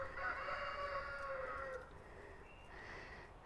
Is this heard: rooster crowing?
yes